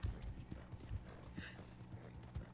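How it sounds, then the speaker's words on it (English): Horse hooves in Red Dead Online: a steady, fairly quiet clip-clop of trotting with some rattling tack, close by, with no talk over it. "My horse is noisy."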